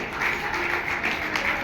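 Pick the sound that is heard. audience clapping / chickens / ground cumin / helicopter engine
audience clapping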